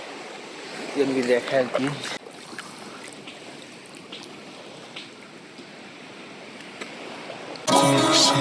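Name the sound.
sea waves and tidal current at Saint Martin's island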